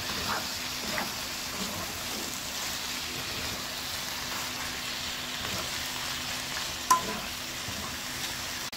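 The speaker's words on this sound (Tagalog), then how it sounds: "Mix mo lang yung cream cheese." Cream cheese being stirred into a covered pan on the heat, with a steady low sizzle and soft scraping of stirring running throughout and one brief sharp knock near the end.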